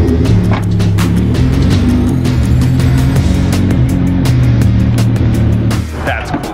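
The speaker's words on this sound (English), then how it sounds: "Now we're going to move the Lambo for the second shot." A Lamborghini being repositioned on a music video set, its engine running steadily and loud throughout, with a deep continuous rumble and sharp ticking transients before the sound eases near the end.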